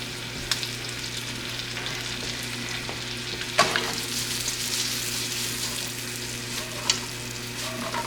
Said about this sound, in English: Let that simmer for a little second.